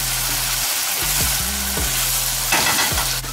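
Chicken korma sizzling with spices in a pan, a steady loud hiss throughout with a steady hum underneath and brief stirring scrapes near the end.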